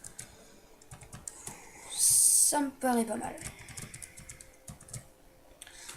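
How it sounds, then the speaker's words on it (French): Computer keyboard keys and mouse clicks during Minecraft play, with sharp scattered taps and a brief burst of clatter near the middle, heard under a man's quiet French speech. "Désolé si vous entendez les clics de souris et quand j'appuie sur le clavier"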